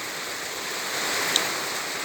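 Evening rain falls steadily, a soft even hiss of fine drops that stays constant throughout, with one small tick partway through and no voices.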